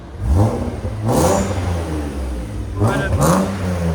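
A 1986 BMW 325es with a swapped M3 engine and Magnaflow exhaust revs hard in loud surges, rising and falling twice, with a roaring exhaust note and some voices mixed in.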